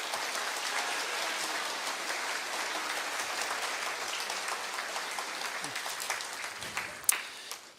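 An audience in a school hall applauds a school band after a fall band and choir concert, sustained dense clapping at steady level that tapers near the end, with a few brief voices underneath.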